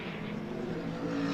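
The Aston Martin Vulcan race car's engine drones steadily and faintly in the distance at Silverstone's Grand Prix circuit during a British Endurance Championship race.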